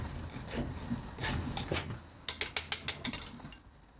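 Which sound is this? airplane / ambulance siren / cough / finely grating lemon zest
finely grating lemon zest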